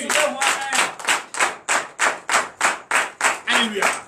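A church congregation at a night deliverance and prophecy service claps in acclamation of Jesus, a steady run of about a dozen loud, rhythmic unison claps close by, with voices murmuring underneath.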